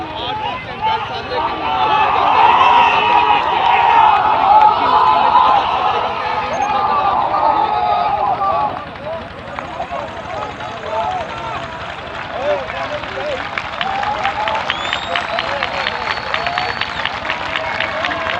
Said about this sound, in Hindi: पूरे ग्राउंड में तालियां बजाई जा रही हैं